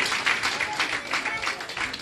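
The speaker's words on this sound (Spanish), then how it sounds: "Aplaude a Jesús. Pero fuerte, fuerte, fuerte la palma" A church congregation applauding steadily, a dense wash of many hands clapping that continues without pause.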